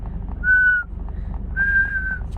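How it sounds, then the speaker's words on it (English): Someone whistles two clear, sustained notes separated by a short pause, each held for about a third of a second, close and fairly loud over low background hum. "Can you whistle? Yeah. Okay, let me try."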